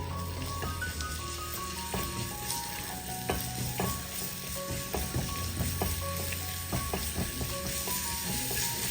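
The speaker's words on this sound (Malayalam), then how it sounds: "1 ടേബിൾ സ്പൂൺ ഇഞ്ചി ചതച്ചതും 1 ടേബിൾ സ്പൂൺ വെളുത്തുള്ളി അല്ലികൾ ചതച്ചതും കൂടി ചേർത്ത് ഒരു പച്ചമണം മാറി കിട്ടുന്നത് വരെ ഒന്ന് ഇളക്കി കൊടുക്കാം" Crushed ginger and garlic sizzling in hot oil while being stirred for finger cutlets: a steady, close frying hiss with scattered spoon scrapes and clinks throughout, no talking.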